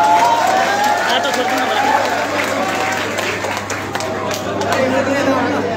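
An audience in a hall claps to welcome new members into the Nagarik Unmukti Party, a steady, dense applause running throughout, loud and close, with crowd chatter and voices mixed in.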